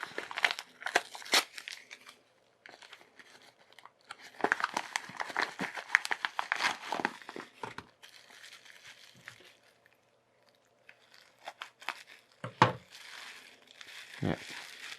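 Plastic packaging holding four small DC motors is torn open by hand without scissors, giving close, bursty crinkling and tearing in irregular bursts with brief pauses, plus a couple of sharper crunches near the end.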